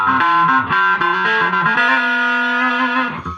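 An electric guitar played through a DOD Gonkulator ring modulator distortion pedal gives loud, buzzing, metallic notes in a short melodic phrase that ends on a sustained tone that fades out.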